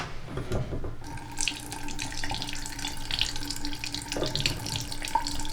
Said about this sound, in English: open some of the faucets